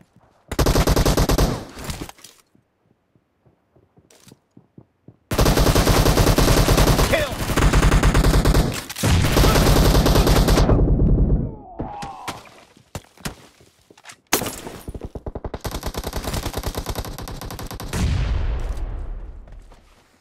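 Gunfire in PUBG, loud sustained bursts of rapid automatic shots broken by short pauses and a few single thuds, dense and close.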